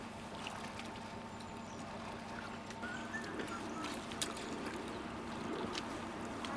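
A small dinghy moves through a koi pond during a harvest in Niigata, giving a steady low wash of water with soft trickles and faint splashes, set against a continuous outdoor background hum with no talking.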